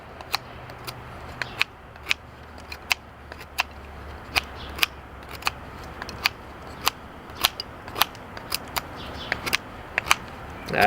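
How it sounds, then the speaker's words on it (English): A folding knife slices into a shard of firewood with a steady series of sharp, crisp snaps and cuts, roughly one every half second, close and distinct over quiet outdoor background. "I have an infinite number of these shards of firewood, so let's just cut something."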